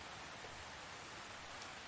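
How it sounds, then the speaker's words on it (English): Rain falling outside a cabin, a soft, steady hiss of drops spread evenly throughout, faint and continuous. "as the rain continued to fall outside"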